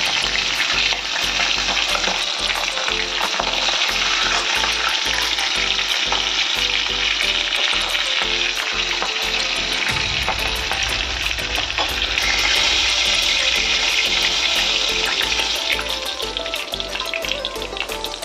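Fish heads frying in oil, a loud continuous crackling sizzle sustained for the whole stretch, with a low rhythmic thumping under the first half that then drops away.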